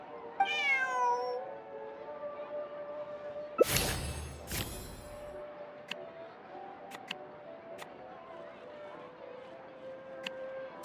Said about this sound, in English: This is my friend's cat. It's normal for her not to trust me.